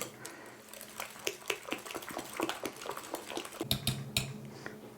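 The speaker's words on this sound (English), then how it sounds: "you always want to kind of loosen it up with a whisk before" A whisk beating cooled vanilla custard (vla) in a bowl to loosen it, quiet repeated clinking strokes in an irregular steady rhythm, close and soft with no talking.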